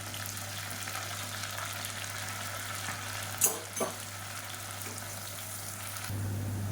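Long-sliced onions hit hot ghee and oil in a cooker and sizzle steadily, with a brief clink of a utensil partway through, close and fairly quiet.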